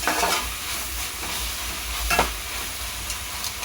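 Ginger garlic paste, green chilli and mint sautéing in a pan with a steady, close sizzle and a few soft stirring scrapes, no talking.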